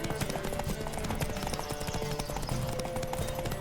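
A horse gallops in The Witcher 3 video game, its rapid, steady hoofbeats drumming close and loud without a break under a dense layer of game noise.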